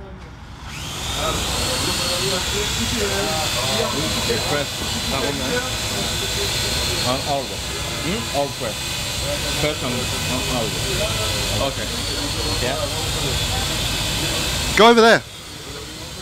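A Parrot AR Drone quadcopter flies indoors at CES 2010, giving a steady high whine and hiss from its rotors that runs throughout, with people talking over it and a brief louder burst near the end.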